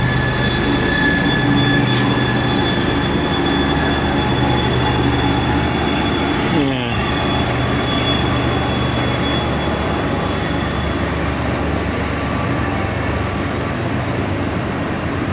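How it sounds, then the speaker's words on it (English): A long loaded coal train rolls past in the New River Gorge with a steady, loud rumble and rhythmic clatter of wheels on rails, continuous throughout with no voices. "It's a long, loaded coal train."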